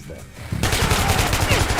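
Dense rapid gunfire from enemies in a first-person shooter video game erupts abruptly and pounds on continuously, rattling bursts overlapping with a loud, sustained roar.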